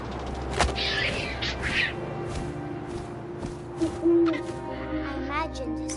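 An owl hoots in the What Remains of Edith Finch video game, low soft calls repeating over a background of wind and ambience, with a voice partly talking over them.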